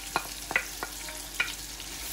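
Chopped onion, garlic and ginger frying in butter over medium-high heat for butter chicken, a soft steady sizzle broken by a few sharp stirring scrapes and clicks, close by with no talking.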